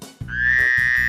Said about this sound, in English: A frog makes a ribbit sound.